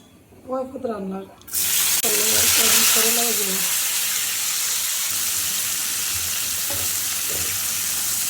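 Bitter gourd with onion and chili dropped into hot oil, a loud continuous sizzle and frying hiss that starts abruptly and holds steady, preceded by a brief voice talking.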